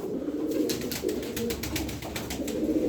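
Arabian pigeons, among them one with a clipped wing, coo in a steady low murmur close by, with a rapid run of wing flaps and fluttering bursts rising above the cooing through the middle.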